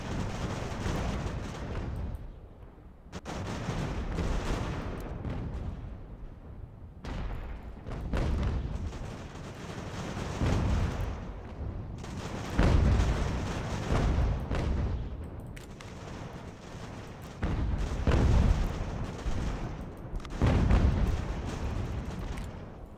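Artillery guns fire in the Ultimate General: American Revolution battle at Fort Frederick: heavy booms recur at irregular intervals over a constant rumbling battle din, fairly loud and close.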